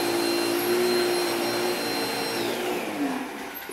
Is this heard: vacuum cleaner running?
yes